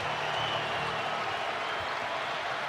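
A college basketball arena crowd roars with cheering and applause in a steady, broad wash of noise during a Vanderbilt versus Missouri men's game.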